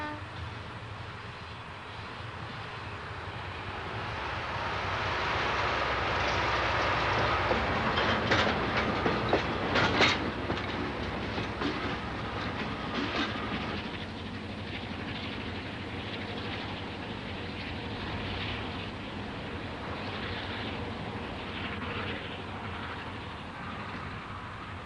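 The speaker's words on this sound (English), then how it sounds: "the Baddow brake van and its loco, which wastes no time heading off to the mystery town of Maryborough" Locomotive hauling the Baddow brake van along a Queensland line toward Maryborough, a steady rolling rumble with clickety-clack of wheels over rail joints, swelling as it passes close by, then fading off at a moderate distance.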